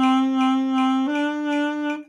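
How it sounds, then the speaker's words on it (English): A saxophone holds two sustained notes at tempo 160, the second a step higher, each with a regular pulsing vibrato, played alone and close for about two seconds. "And now you have a really nice saxophone vibrato."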